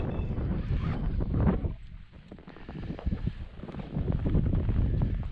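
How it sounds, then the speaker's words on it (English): Steady wind buffeting the microphone out on the ice beside a tent, gusting louder and softer in a roaring rush, with no voices. "a bit windy"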